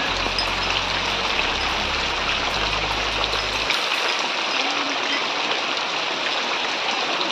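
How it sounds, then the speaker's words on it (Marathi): Steady, dense rain pours down in a Konkan village during the monsoon, a loud continuous hiss with a low rumble underneath for the first half that then drops away. "आम्ही इथं थांबलो जरा, पाऊस चालू झाला म्हणून"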